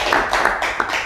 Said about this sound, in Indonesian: Tepuk tangan untuk Supri.